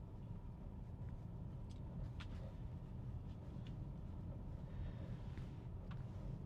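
A Tesla car drives itself on Autopilot, giving a steady, even cabin rumble of road and tyre noise with faint higher ticks, continuous from start to finish with no talking.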